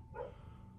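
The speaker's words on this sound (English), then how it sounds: "Excuse the dogs out there barking. I'm sure y'all can probably hear them in the background." A dog gives a single short, faint bark outdoors in the distance, brief and muffled against a low background hum.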